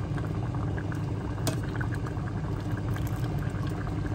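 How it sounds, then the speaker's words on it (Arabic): Soup pours into a bowl, a continuous liquid rush at a steady level with a faint low background hum and a single brief clink partway through. "نصب الشوربة"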